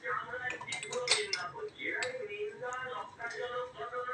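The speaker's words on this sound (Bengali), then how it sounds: "সিঙ্কটা পরিষ্কার করবার পর চায়ের কাপটা ধুয়ে রেখে দেবো এখন চায়ের কাপের জায়গায়" A teacup being washed and set back in its place at a kitchen sink, with light clinks of porcelain and ceramic taps throughout, mixed with running-water sounds while someone talks over it.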